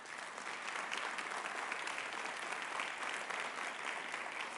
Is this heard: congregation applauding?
yes